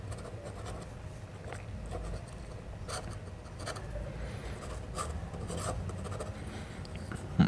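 A pencil sketching quick semicircles on paper, soft scratchy strokes repeating in short bursts, close and quiet against a faint background hum.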